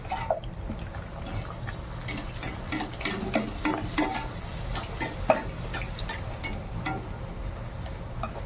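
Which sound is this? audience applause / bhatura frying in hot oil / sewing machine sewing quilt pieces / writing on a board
bhatura frying in hot oil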